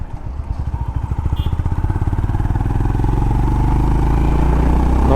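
A Honda CB350RS motorcycle rides with its exhaust beating as a fast, even thump that climbs in pitch and loudness as it accelerates, close and steady.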